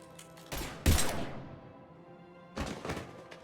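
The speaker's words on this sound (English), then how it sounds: "Now open fire!" Gunfire in Mass Effect: Legendary Edition, a few heavy thumping bursts with decaying tails separated by a quiet gap, close and punchy.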